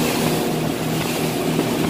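A 2006 Polar boat idles with both motors running side by side, giving a steady, even mechanical drone with a low hum. It sounds close and continuous, and no one talks over it.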